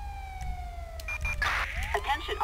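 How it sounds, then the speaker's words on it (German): A police car siren wails in the Grand Theft Auto 5 police patrol game, a steady tone that drops slowly before breaking into short yelping sweeps, with game noise and a voice talking over it. "Sirene mach ich mal aus."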